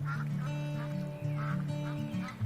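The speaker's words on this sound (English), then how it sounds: "the mallard is a much maligned and overlooked duck." A mallard duck calls in a run of loud, nasal honking quacks, repeated closely and up front with no talk over it.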